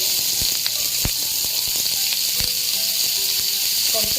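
Chopped garlic and onion sizzle in hot oil left over from frying fish, a continuous close hiss with scattered sharp pops and crackles, fairly loud, with no talking.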